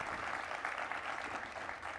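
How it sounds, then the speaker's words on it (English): Audience at a business talk on customer success applauds a guest speaker, an even, fairly faint wash of clapping that holds steady throughout. "Let's give a big round of applause for Christina."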